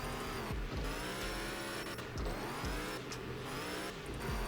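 A Baja off-road vehicle in the Offroad Outlaws game ploughs through mud, its engine droning steadily and loudly with repeated swells in pitch as it pushes on, no talking.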